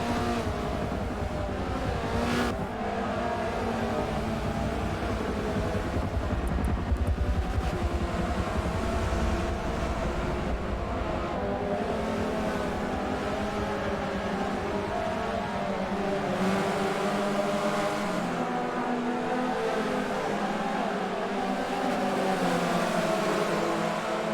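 Race cars in a Forza online series race droning continuously with loud engine noise, a dense pack roaring on track with shifting pitch and no pauses.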